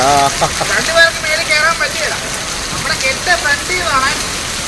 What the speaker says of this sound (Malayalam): ഭയങ്കര മഴയാ മാർക്കറ്റിൽ ഭയങ്കര മഴയാ